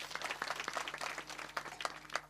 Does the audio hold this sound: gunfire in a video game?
no